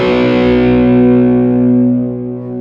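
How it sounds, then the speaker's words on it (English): Electric guitar played through a Fillmore 50 amp with an open-back single-12 cabinet, a Strymon delay and a touch of reverb; one sustained, full-bodied chord rings loud and alone, slowly decaying with a soft ambient tail. "the whole tune is basically just straight into the amp with that my delay sound, a little bit of reverb actually also from the other Strymon"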